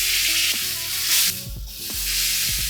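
Venison searing in a hot pan, held in place with tongs, a loud continuous close sizzle that briefly dips and surges as the meat is shifted and pressed against the pan.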